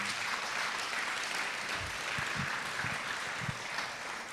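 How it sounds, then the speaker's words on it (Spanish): A church congregation applauds together, a dense continuous wash of clapping that stays steady and fairly distant throughout. "Denle un fuerte aplauso a nuestro Dios."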